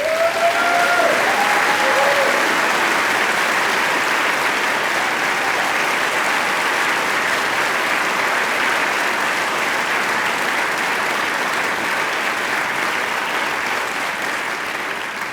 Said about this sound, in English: If you'll stop clapping